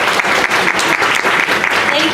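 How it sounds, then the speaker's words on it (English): Audience applause for a speaker at an Omidyar event, dense steady clapping from a crowd that carries on without a break for its whole length. "A round of applause for Ha."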